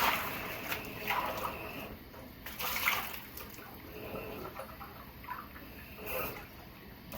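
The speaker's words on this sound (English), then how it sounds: "So now I'm going to get my cold water and mix it on in with it." Cold water being poured into celery-flavored Jell-O mix, a soft, faint splashing and trickling that swells and fades over several seconds against quiet room noise.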